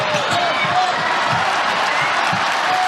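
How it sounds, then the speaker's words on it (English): A basketball arena crowd at Carver Hawkeye Arena during an Iowa women's college basketball game keeps up a steady, distant roar of cheering and noise, with occasional ball bounces and a commentator talking over it. "Fans on their feet here at Carver Hawkeye Arena. Randomly making some noise, trying to cheer on this team."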